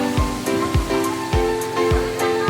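Spring water pours steadily into a swimming pool at a natural spring resort, a continuous splashing rush with regular surging pulses, close and fairly loud.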